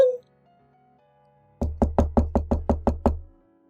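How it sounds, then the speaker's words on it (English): Someone knocks on an entrance door: a steady run of eight firm, evenly spaced raps, close and clear, following a brief chime-like tone. "I heard the entrance doorbell ring, and the sound of knocking."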